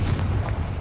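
A Confringo fire-blast spell explodes in Hogwarts Legacy, a short, heavy low rumbling burst that fills the brief moment at close range.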